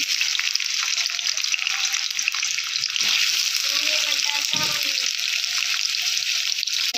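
Steady, loud hissing and crackling of potatoes frying in hot oil in a kadhai, continuous throughout, with a few faint clinks and a brief murmur in the background.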